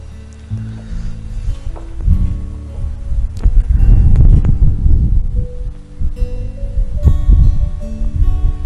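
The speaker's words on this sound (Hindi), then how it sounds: "अब देखो कितनी हवा चल रही है, कितना अच्छा लग रहा है यहाँ." Wind sweeps across a 2000 sq ft rooftop terrace of an ultra-luxury duplex at M3M Golf Estate in Gurgaon, a loud, low, buffeting rush that swells and eases in gusts, with faint rustling.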